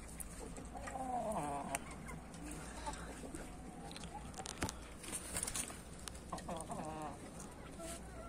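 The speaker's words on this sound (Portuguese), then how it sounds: "Esse frango aqui" A young rooster with small spurs clucks and crows in a farmyard, several short calls and one stretched, wavering crow rising over steady background noise and some nearby talking.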